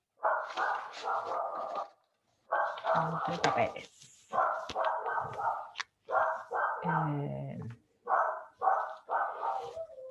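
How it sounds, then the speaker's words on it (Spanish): Dogs bark now and then in the background during a math class, with a few short yaps among the teacher's near, steady speech, which pauses in places. "No sé qué les pasa a los perros, que están loquitos."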